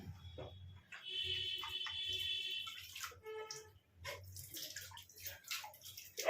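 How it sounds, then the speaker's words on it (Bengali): Water splashing and running as a container is rinsed and poured into a papaya curry cooking on a stove, a steady close-up pour with gurgling and dripping, no talk. "একটু এটা ধুয়ে জল দিই, তাহলে ভালো করেই পুরো সেদ্ধ হয়ে যাবে।"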